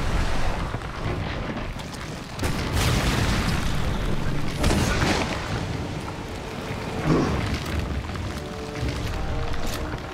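Heavy booming blasts from a grenade launcher in Resident Evil 7, loud rumbling explosions that recur every couple of seconds and roll on without a break.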